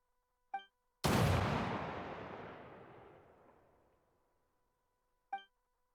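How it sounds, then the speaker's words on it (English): A single loud gunshot from a musket in a Genshin Impact cutscene, with a booming crack and a long decaying echo lasting several seconds, framed by two brief electronic chime tones. "It should have been 2 gunshots"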